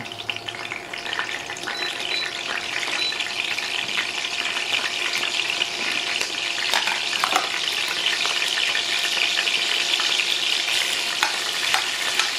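Capers sizzle in a pan while soup is being made, a steady bright hiss and crackle with occasional sharper pops, close and constant over several seconds, and no one speaking.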